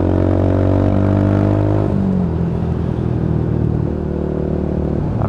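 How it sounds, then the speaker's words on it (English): A Lexmoto Tempest motorcycle engine revs with a deep, raspy exhaust note, rising and then dropping to a steady rumbling idle. "So very brappy exhaust on that, and a beautiful tone to it"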